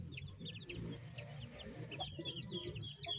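Chicks and chickens in a coop on a Batangas province farm, with repeated high peeping and scattered clucks close by, layered over low murmuring fowl noise throughout.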